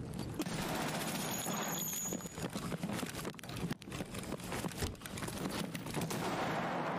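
Gunshots crack through a video game firefight in an irregular, dense string of sharp reports. Some shots cluster in quick bursts and others stand alone, with steady background noise in between. The overall level is fairly quiet.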